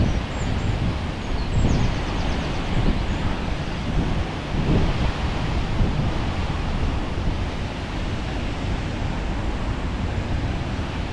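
Steady, loud rush of water falling between two sets of rocks at a waterfall, heard from a viewing point above, continuous broadband roar with no talk.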